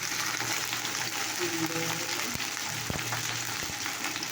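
Chili sizzles in hot oil in a pan as it is stirred, a continuous crackling fry broken by a few sharp scraping knocks of the spatula against the pan.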